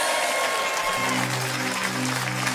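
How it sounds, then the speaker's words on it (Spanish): Audience applause during a live show, a broadband wash of clapping with steady music tones entering about a second in and continuing underneath. "¡Un aplauso!"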